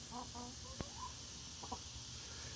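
Chickens clucking inside a backyard chicken coop, a few soft short clucks and murmurs near the start, one sharp click and a brief pair of calls later, quiet and fairly close over a steady background hiss.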